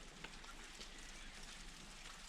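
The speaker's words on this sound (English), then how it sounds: "Yeah, that's rain you're hearing on day 59." Steady, faint rain patters on a surface outdoors near a partly built teardrop camper sheltered under a deck, an even hiss with no talk.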